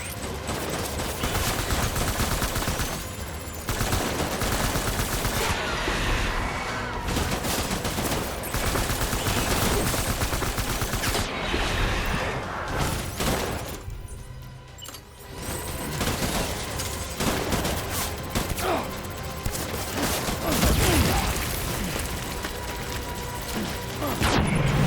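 Heavy gunfire in the Death Stranding video game, with dense machine-gun bursts and fusillades running almost nonstop, loud and close, broken by brief lulls and mixed with game effects and occasional voices.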